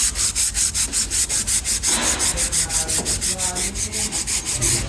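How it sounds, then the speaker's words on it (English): A 3M abrasive pad scrubbing rust from a steel outrigger lock pin on a CMC 83HD spider lift, fast rhythmic back-and-forth rubbing strokes, close and evenly paced, with no voices. "we're going to go back and forth on it and clean the rust off."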